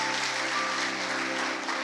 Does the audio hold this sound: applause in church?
yes